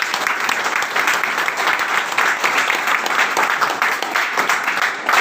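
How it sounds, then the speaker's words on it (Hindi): Dense, even audience applause rolls on without a break, loud and close throughout, with no voices rising above it. "उनके लिए एक जोरदार तालियां चाहिए"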